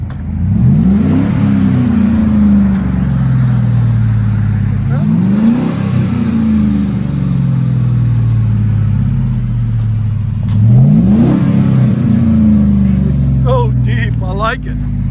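Chevy Silverado 5.3L V8 exhaust revving three times in sweeping surges that rise and fall, loud and close with a deep rumble, with talk over it and a few chirps near the end.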